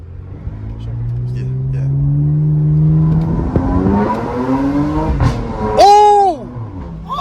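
A Porsche with a loud aftermarket exhaust revs hard, its engine tone climbing steadily and then peaking in a sharp rise and fall, close and loud, with a brief spoken word over it.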